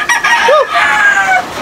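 Chickens in a breeding pen on a rainy morning cluck and call, with one short rising squawk standing out near and loud over steady rain hiss.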